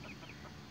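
Plymouth Rock hens clucking softly in a backyard coop, a steady low murmur of several birds close by with no talking.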